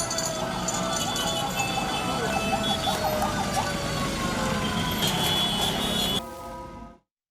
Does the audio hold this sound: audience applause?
no